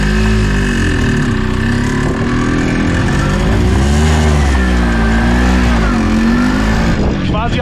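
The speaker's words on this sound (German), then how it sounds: "wie schnell man wenden kann mit einem Gespann." A 1970s-80s East German MZ ES 250/2 Trophy motorcycle with sidecar drones loudly and steadily nearby, its pitch rising and falling as it maneuvers and turns almost on the spot.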